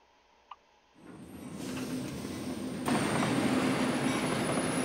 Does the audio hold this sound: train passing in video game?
yes